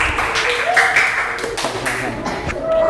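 Classroom clapping for a student, a moderate patter of children's hands running steadily throughout, mixed with voices talking over it.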